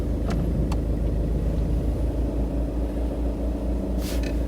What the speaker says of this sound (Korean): 자, 시동. 오, 잘 걸립니다.